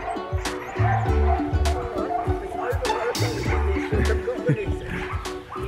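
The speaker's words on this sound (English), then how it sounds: "what do you think of all the puppies?" A litter of puppies barks and yips, including high whimpers, on a road trip in New Zealand while one puppy learns to walk on a lead for the first time. The yapping is close and continuous, and people talk over it.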